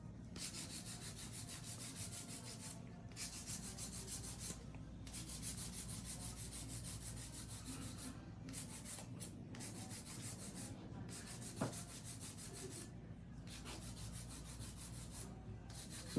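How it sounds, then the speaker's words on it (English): Hand filing of a fingernail during a nail art session: a steady, close, continuous rasping rub with brief pauses and no talk. "This is hand filing."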